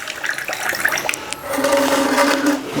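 Water poured from a small vessel into a glass for a herbal leaf remedy. A brief handling clatter comes first, then a steady pour of about a second and a half.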